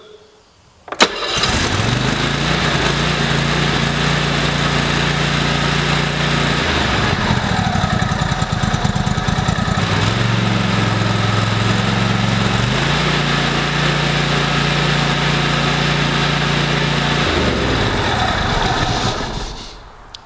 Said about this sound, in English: Let's go ahead and start this up and see how it sounds.